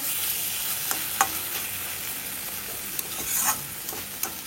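Ridge gourd fries in a pan as a steady close sizzle, with a few sharp clicks and scrapes of a utensil and a brief louder burst of sizzle, with no voices.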